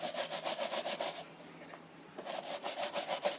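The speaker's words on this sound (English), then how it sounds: "take your brush after shake it about getting it dry, and scrub all over the boot" A damp brush scrubs all over a football boot in quick rhythmic strokes, close and fairly quiet, with a short pause midway before the scrubbing resumes.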